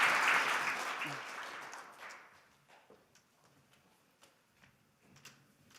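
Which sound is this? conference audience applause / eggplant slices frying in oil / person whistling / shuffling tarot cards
conference audience applause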